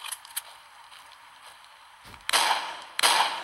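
Two sharp, loud bursts of synthetic gunfire in the video game The Walking Zombie 2 about a second apart, each trailing into a brief noisy decay, following a quieter stretch of faint clicks.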